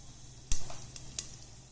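Mustard and cumin seeds hit hot oil for a bottle gourd curry, giving a faint hiss broken by a couple of sharp, brief pops and crackles.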